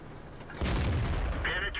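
A tank cannon fires in the World of Tanks video game, a single heavy boom that bursts out midway and rumbles on, with a commentator's voice faintly present.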